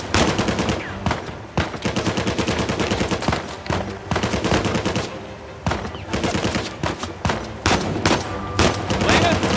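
Pistol shots crack in rapid, dense bursts during an Uncharted 4 firefight, loud and continuous with brief pauses, mixed with other game gunfire and effects and a voice talking underneath.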